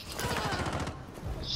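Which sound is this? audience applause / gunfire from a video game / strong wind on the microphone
gunfire from a video game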